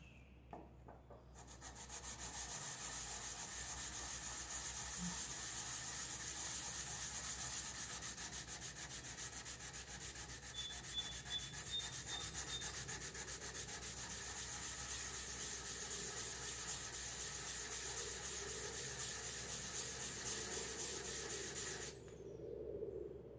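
Steady hand sanding of an antique turn-of-the-century wrench with sandpaper, a continuous close rubbing scrape that carries on evenly for about twenty seconds with no talking.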